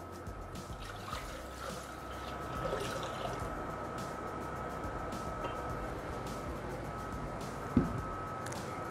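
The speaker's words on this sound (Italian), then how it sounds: "Il latte." Milk pours into the bowl of a Thermomix kitchen appliance, a soft steady trickling and dripping heard close up over a faint electrical hum, with one small knock near the end.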